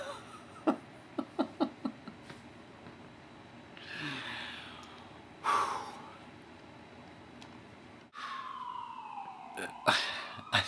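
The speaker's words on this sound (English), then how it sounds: "I'm so distracted by the sirens. Can you hear the sirens?" Emergency vehicle sirens wail through New York City streets, rising and falling tones heard at a middle distance, mixed with a man's giggling, snorts and chatter nearby.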